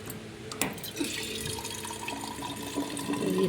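Water streams steadily from a home water filter into a steel bottle, a continuous close trickling splash with small bubbling and dripping variations and no talking.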